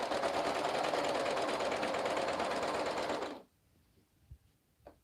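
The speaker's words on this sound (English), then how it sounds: "you want to sew over this slowly because it is very thick right there" A sewing machine stitches slowly through thick layered seams of a romper, a steady loud mechanical whir for about three seconds before stopping abruptly, followed by faint handling clicks.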